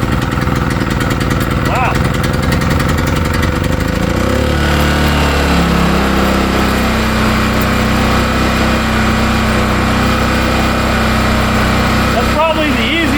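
A rebuilt small generator engine runs after being pull-started, giving a loud, steady, close mechanical drone with a slight shift in pitch partway through. A man briefly exclaims over the running engine.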